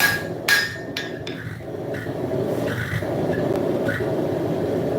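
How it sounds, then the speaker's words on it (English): Hammer blows on hot scrap steel being straightened at a forge: a few sharp, ringing metallic strikes in the first second or so, then a steady, loud forge roar carrying on alone. "This is getting pretty cool for me to be hammering on, but I want to get it straightened out."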